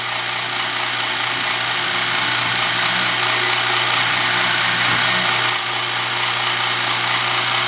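A power tool makes a plunge cut into soft material while a client's heirloom knife is being copied: a steady, loud, continuous grinding whine that holds evenly with a brief dip near the end, with no talking.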